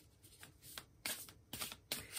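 Tarot cards being shuffled by hand, crisp riffling bursts that come in several quick rounds and grow louder toward the end, heard close and alone without speech.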